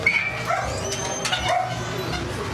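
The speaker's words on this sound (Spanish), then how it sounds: "Los perros." Dogs barking in short bursts at a moderate distance, repeated several times over a steady outdoor background with faint bird calls.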